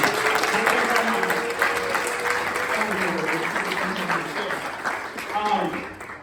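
A crowd claps inside Bethel Tabernacle church during a Stop the Violence concert, a steady dense wash of applause with voices talking and calling out over it.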